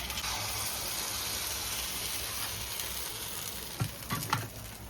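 Appe batter sizzles steadily in a hot appe pan on a home stove, a constant crackling hiss with a few louder clatters near the end.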